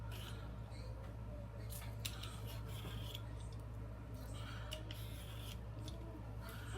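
A peeler scrapes the tough skin off a cucumber in quick repeated rasping strokes, close and fairly faint over a steady low background hum.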